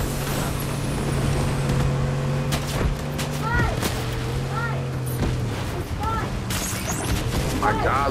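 A vehicle driven in Fortnite gives a steady engine drone with shifting pitch, while bumps, clatters and game sound effects break in over it.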